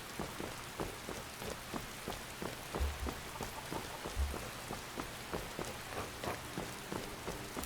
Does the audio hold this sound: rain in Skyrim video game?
yes